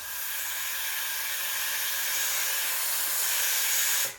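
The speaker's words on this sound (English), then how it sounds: "Just give it a quick purge, like a 1 second purge should be enough." Steam wand on a Breville Oracle Touch espresso machine purging, a steady broad hiss of steam holding evenly throughout and cutting off sharply at the end, close and fairly loud.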